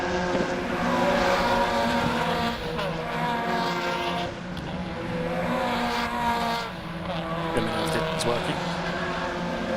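Race cars braking hard into Mansfield corner at Cadwell Park during a Miata Trophy or trackday event, loud engines downshifting with tyres locking up, engine noise continuous throughout under a commentator's voice.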